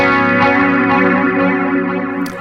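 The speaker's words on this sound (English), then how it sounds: "So the sound of the delay doesn't come immediately after you play it." Electric guitar played through a Zoom MS-70CDR multi-effect pedal on a slow attack delay setting, a sustained chord swelling with layered repeats that hold steady and fade gently, loud and close with no talking.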